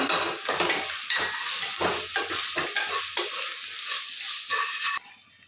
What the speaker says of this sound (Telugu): ఇప్పుడు బాగా ఇలా కలిపి మసాలాలు వేసేస్తున్నాను